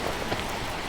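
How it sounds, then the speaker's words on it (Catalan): Rain falling outdoors in a steady, dense hiss of drops, brief and continuous with no talking. "Solta, Dani, està plovent."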